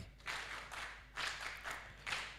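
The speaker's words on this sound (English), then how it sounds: "A big hand clap." A small group claps hands in several short bursts, faint and with no talk, the applause rising and falling in separate rounds.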